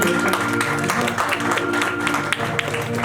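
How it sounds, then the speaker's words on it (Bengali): Audience applause for two accompanying musicians at a Rabindra Jayanti celebration in a club hall, a dense, steady wash of clapping over a lingering musical tone throughout. "ওনাদের জন্য জোরে হাততালি হয়েছে"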